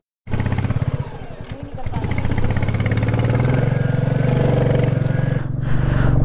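Motorcycle engine on a rough mountain road near Chumathang in Ladakh, a loud, steady mid-pitched drone that rises gradually over several seconds, with people talking over it.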